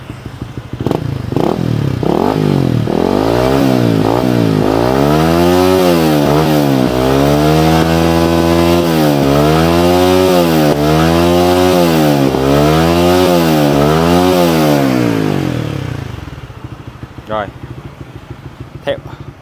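A Honda Winner X V3 motorcycle engine with an aftermarket exhaust revs up and down repeatedly with a smooth, throaty exhaust note, loud and close, then settles to idle as a voice speaks over it.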